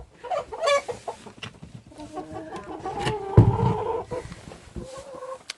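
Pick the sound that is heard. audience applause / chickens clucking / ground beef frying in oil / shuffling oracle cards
chickens clucking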